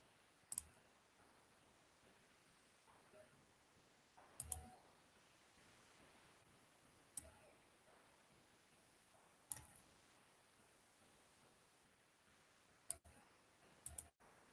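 Quiet, sparse computer mouse clicks in an online bird beaks lab exercise: about half a dozen sharp single and double clicks spaced a few seconds apart, with near-silence between them.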